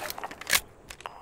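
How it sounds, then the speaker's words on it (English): Armor breaking on an enemy target in Call of Duty: Warzone, a few quick crackling, crunchy bursts with one sharp louder crack in the middle, close and alone. "This is the sound of armor breaking."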